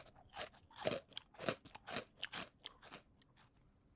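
Crisp, close crunching of teeth biting through fried prosciutto tortellini, with about a dozen uneven bites and chews spaced over a few quiet seconds.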